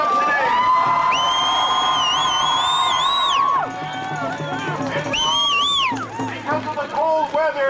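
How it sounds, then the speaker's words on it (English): Crowd at an outdoor round dance at a memorial bandshell in cold weather, cheering with whoops and high shouts that swell, drop off, then rise again in scattered bursts, loud and close. "Let's give a big round of applause for everybody that showed up today."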